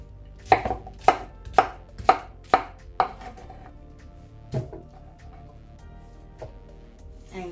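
A knife chops pineapple or watermelon into small pieces on a cutting board, with six sharp, evenly spaced knocks followed by a few scattered, softer cuts.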